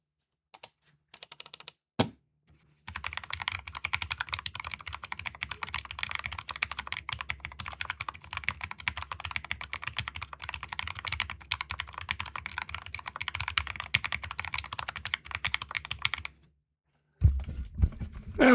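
Steady, fast typing on an Epomaker Luma40, a 40% ortholinear mechanical keyboard, during a speed drill: dense, even keystroke clatter close up for about thirteen seconds, with a few isolated key presses before and after and no voices.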